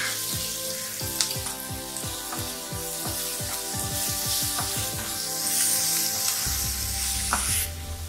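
Tomatoes frying in a hot pan while cooking a raw papaya and dried prawn bhaji, a steady loud sizzle with bursts of scraping stirring throughout.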